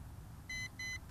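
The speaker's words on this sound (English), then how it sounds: "those double beeps indicate that it is now ready for compass calibration" A Holy Stone HS510 ultralight foldable GPS drone gives two short, clear electronic beeps in quick succession, signaling it is ready for compass calibration. The beeps sound over a quiet, low background rumble.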